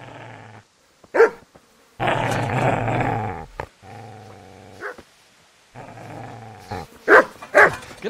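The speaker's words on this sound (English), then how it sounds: "So we can hear the dog." A dog in the medieval role-playing video game Kingdom Come: Deliverance growls in long, loud rumbling stretches, broken by sharp barks and yips near the end, close and alone without talk.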